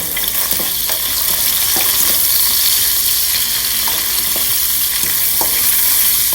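Thai noodles fry in a pan while being stirred, giving a loud, close, continuous sizzle broken by repeated scraping and clinking strokes of the utensil at an uneven rhythm.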